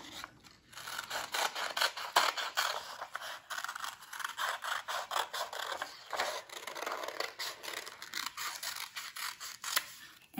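Scissors snip a paper beard cut-out for a Tomten craft, a steady run of close, crisp cuts and rustling paper continuing without pause, no talking.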